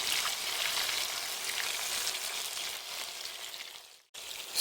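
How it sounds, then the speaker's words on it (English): Tinfoil barb fish frying with turmeric powder in a pan, a steady loud crackling sizzle throughout that cuts out abruptly near the end and then returns. "Once the frying is done, we can remove the fishes from the pan."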